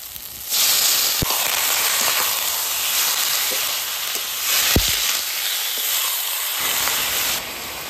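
Chicken keema tipped into a pan of sizzling spiced masala with salt and turmeric, giving a loud steady hiss of frying with a few sharp clicks and clatters, then the sizzle dropping away for a moment before carrying on.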